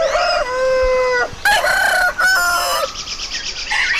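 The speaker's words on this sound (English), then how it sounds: "the thunderous voice of our next-door neighbor's rooster" A rooster crows loudly and close by in Samoa, two or three drawn-out, strained calls in quick succession with no talking.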